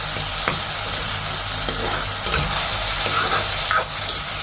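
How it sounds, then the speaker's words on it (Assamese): Tomatoes frying in a pan for gravy while being stirred, a continuous bright sizzle with occasional scraping stir strokes, close and fairly loud. "চাওক, ধুনীয়াকৈ ফ্ৰাই কৰি আছোঁ, বিলাহীখিনি একদম গলি গৈছে"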